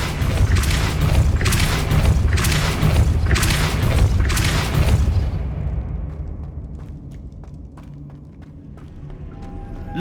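Depulso spell in Hogwarts Legacy gameplay lets out a series of heavy, booming blasts in quick succession, then fades into quieter game ambience with faint ticks.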